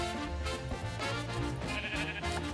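Sheep bleating in the Minecraft video game, several bleats in a steady repeating pattern over a dense, continuous game soundtrack, clearly audible throughout.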